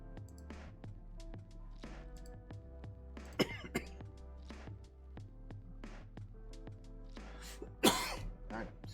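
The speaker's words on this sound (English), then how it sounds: "Cough is picking up here because of all the talking I'm doing." Repeated coughs and throat clearing from a man hosting an online baseball draft stream, spaced through the stretch over a steady low hum, with a sharper, louder cough near the end.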